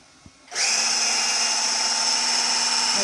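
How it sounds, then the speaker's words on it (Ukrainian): After a small tap, a high-pitched electric mixer motor whirs up and runs steadily at a constant whine, loud and close, whisking pancake batter. "в мене тут вінчик і будемо збивати його"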